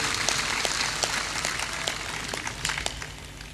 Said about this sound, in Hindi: ताली बजा के इनका सम्मान करो।